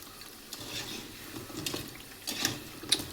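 Raw banana bajji fry in hot oil with a soft, continuous sizzle, broken by occasional light stirring clinks and scrapes, close and fairly quiet.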